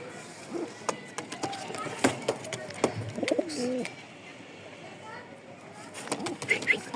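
American Budapest pigeons coo in soft low bursts amid a flock, with wing flaps and small knocks nearby while someone talks over them.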